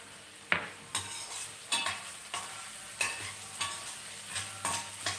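A pan of cauliflower curry ingredients frying until brown, with a steady sizzle broken by repeated stirring scrapes roughly every half second to second, close and moderately quiet.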